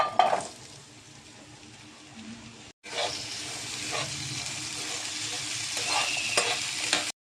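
Vakkaya and tomato pieces frying in oil, a close hissing sizzle with a few spatula knocks and stirs, briefly cutting out before resuming louder and steadier.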